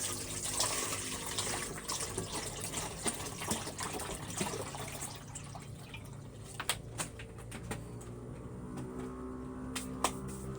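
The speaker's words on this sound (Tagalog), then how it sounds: "Mainit na tubig naman." Hot water pours steadily into a cooking vessel during home meal preparation, a continuous rushing splash that thins out into scattered drips and small clinks toward the end.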